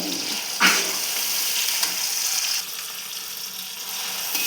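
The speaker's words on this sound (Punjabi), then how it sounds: "ਹੁਣ ਇਹਨੂੰ ਆਪਾਂ ਚੰਗੀ ਤਰ੍ਹਾਂ ਭੁੰਨਾਂਗੇ" Potato, fenugreek and spinach sabzi fries in a pan with a steady, close hiss of sizzling oil, broken by a brief clank near the start and a few soft stirring sounds.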